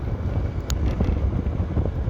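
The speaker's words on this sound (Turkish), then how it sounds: "Ama rüzgar güzel burada da bak." Gusting wind blowing outdoors, heard from a moving XMAX250 scooter as trees sway nearby; a steady, loud roar of wind buffeting the microphone with low rumble throughout, no talking.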